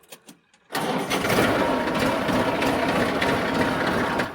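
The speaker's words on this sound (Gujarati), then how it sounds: "આપણે જો થ્રેસર આવી ગયો હોમે મગફળી કાઢવા." A groundnut thresher machine's engine starts up and then runs steadily and loudly, with a dense mechanical drone after a brief quiet start.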